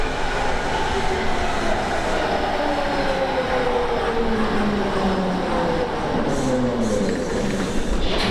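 A Hamburg U-Bahn metro train on the U1 line rumbles steadily from inside the car, with rising and falling motor whine and wheel noise throughout.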